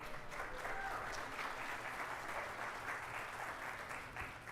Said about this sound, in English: Let's give a big round of applause for Chef Gabe.